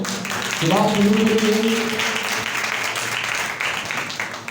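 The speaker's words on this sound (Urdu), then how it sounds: "زور تالیاں" Loud applause from a church congregation during a sermon, a dense steady wash of clapping lasting several seconds, with a raised voice calling out over it near the start.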